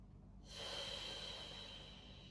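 A single slow, deep breath drawn in through the nose during a yoga and spine mobility exercise, close and breathy, starting abruptly and holding steady without speech.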